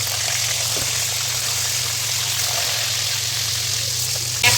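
Eggplant slices frying in plenty of hot oil for a Bengali dish, giving a steady, dense sizzle and crackle that holds evenly throughout.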